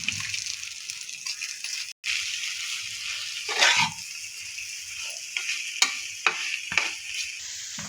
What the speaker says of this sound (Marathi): मसाला थोडासा परतून झाला की आपण त्यात बटाटा टाकून घेऊयात।